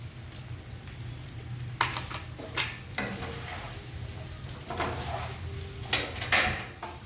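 Bitter gourd pieces coated in coconut spice powder are stirred in a hot pan, a soft continuous sizzle broken by several louder scraping stirs of the spoon against the pan.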